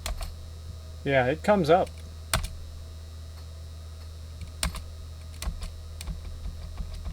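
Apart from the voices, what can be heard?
typing on a computer keyboard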